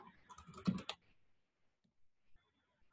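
A short command typed on a computer keyboard in a coding lab: a quick burst of four or five close key clicks followed by a couple of faint scattered taps in near silence.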